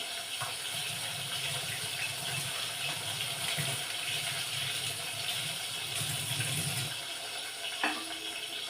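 Tap water runs steadily into a kitchen sink while tomatoes are washed under it, a continuous close splashing gush with shifting tone as the produce is handled, ending with a small clunk.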